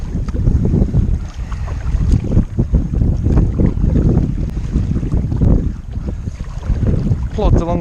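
A short Seaflo adult sit-on kayak is paddled with a feathered, offset-blade paddle, giving a steady rhythm of splashing strokes and water swishing, close and loud, under heavy wind buffeting the microphone.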